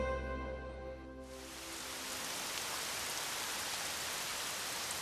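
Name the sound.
light drizzling rain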